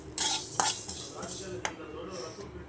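Fenugreek seeds and spices roasting in a pan for fish curry masala, with several sharp scraping and clinking strokes of a spoon against the pan over a faint sizzle.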